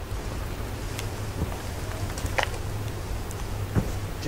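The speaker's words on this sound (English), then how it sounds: "It's raining." Steady rain falls on a campsite beside a cooking fire, a dense even hiss of drops with a few sharper individual taps close by, no talking.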